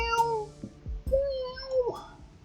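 A human voice imitates a cat's meow and then a wavering siren, a couple of drawn-out vocal wails with short pauses between.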